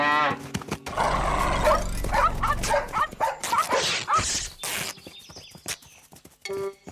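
Several dogs bark in quick repeated bursts, loud and close, amid a busy cartoon-style scene with other animal noises and clatter.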